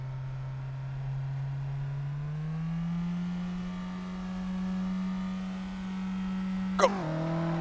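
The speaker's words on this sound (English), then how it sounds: "That engine really over revs easily." Suzuki Liana engine in Assetto Corsa on the Top Gear Test Track, a steady droning hum that climbs slightly in pitch and holds high, then a sharp burst and a sudden drop in tone near the end.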